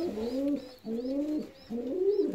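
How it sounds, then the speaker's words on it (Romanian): Saxon swallow pigeon chicks coo in a series of three rolling, low calls with short pauses between them, close and clear with no voices. "pui de rândunele de Saxonia"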